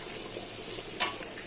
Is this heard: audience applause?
no